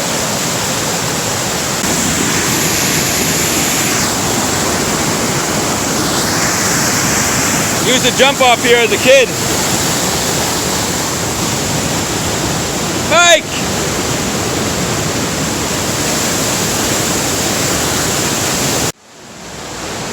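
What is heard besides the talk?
big waterfall under a bridge on the Little Hoosick River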